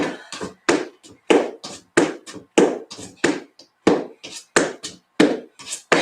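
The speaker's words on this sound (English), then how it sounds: "the sound of my loud feet on the floor" Feet tapping on the floor during an exercise workout, a close, loud series of quick thumping steps in an uneven rhythm, roughly a dozen impacts with no talking.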